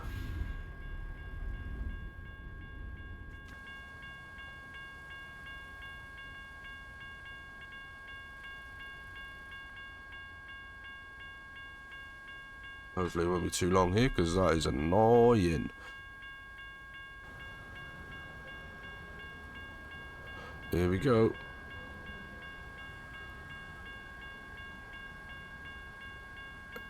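Low rumble of a passing train in American Truck Simulator with two bursts of a loud horn, one long and one short, while a voice talks quietly in between.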